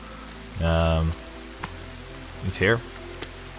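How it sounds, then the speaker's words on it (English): Steady rain falls in a survival video game, a soft continuous patter that stays in the background while someone talks over it. "Oh, it's raining."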